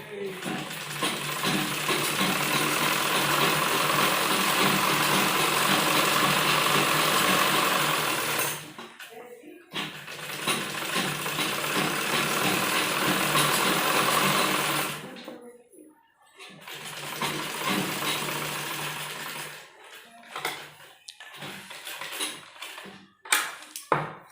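Close, loud sewing machine runs a double line of stitching along a men's underwear seam, in two long continuous stretches and a shorter, choppier one near the end, separated by brief pauses.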